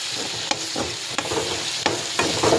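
Onion and eggplant sauté in oil for kathirikai kara kuzhambu, a continuous sizzle punctuated by four sharp ladle clinks against the pan at a slow, irregular pace.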